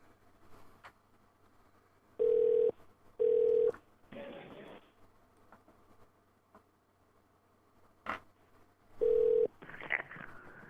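Telephone keypad tones beep during a call to a casino, three short bursts of tone plus another later, with soft noises between them and no talking.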